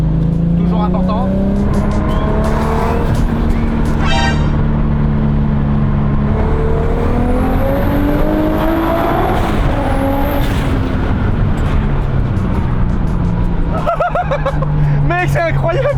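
A 1200-horsepower Volkswagen Golf drives hard, its engine droning loud and close with rising and falling pitch, tire noise and a brief squeal, while people talk over it.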